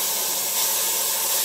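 A Russell's viper hisses with a steady, breathy rush like a pressure cooker venting, continuous and fairly close, with no voices over it.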